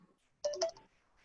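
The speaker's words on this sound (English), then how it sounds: "There's a phone, 1 minute." A telephone gives a short electronic ring or dial tone, one brief bright burst of chirping tones lasting under half a second, close by in an otherwise quiet room.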